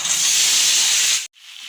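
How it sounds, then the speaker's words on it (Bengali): A thin curry of potato, tomato and drumstick stems simmering in a pan gives off a loud, steady hiss. The hiss cuts out abruptly for a moment, then returns slightly softer. "আর একটুখানি টকবক করে ফুটলে নামিয়ে নেব"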